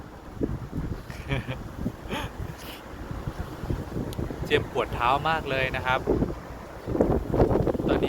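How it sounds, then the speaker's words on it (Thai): Strong wind blows outdoors on a boat, rushing and buffeting the microphone continuously while a person talks over it. "ลมดูข้างหลังครับ ลมแรงมากเลยนะครับ"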